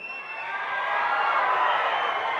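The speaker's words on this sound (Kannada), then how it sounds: "ಈ ವಿಸಲ್ಲು ಚಪ್ಪಾಳೆ ಈ ಕೇಕೆ ಇಲ್ಲ ಅಂದರೆ ಯಾವ ಫಂಕ್ಷನ್ನೇ ಅಲ್ಲ" A dense fan crowd at a meet-and-greet event cheers and claps in a steady roar, with a high whistle near the start, filling the whole stretch with no clear speech.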